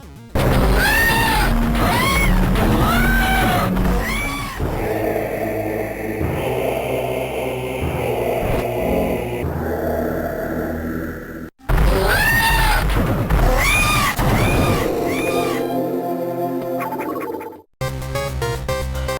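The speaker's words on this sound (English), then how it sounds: "at the very least does manage to carry on Ridley having great death screams" Loud, drawn-out screeching death cries of the dragon-like boss Ridley in a Metroid game, repeated rising wails over crashing game sounds, with a short break midway before another burst.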